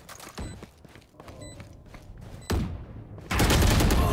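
Gunfire in the video game Valorant: a few isolated sharp shots early, then a loud burst near the middle and a heavy sustained volley of rapid fire at the end.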